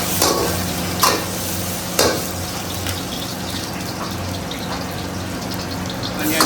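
Diced chili stir-frying in hot oil for chilli chicken, a steady broad sizzle with a few sharp spatula scrapes against the pan, close and continuous.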